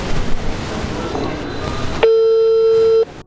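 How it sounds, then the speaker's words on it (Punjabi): Telephone busy tone heard through a phone, a single steady beep held for about a second after faint background noise. "ਫੋਨ ਜਿਹੜਾ ਬਿਜ਼ੀ ਆ ਰਿਹਾ"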